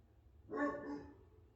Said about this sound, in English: Sorry about the dog. He's a Great Pyrenees.